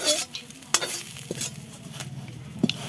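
Pea greens sizzling in a pan while being stirred, with several sharp scrapes and clinks of a utensil against the metal over a soft frying hiss.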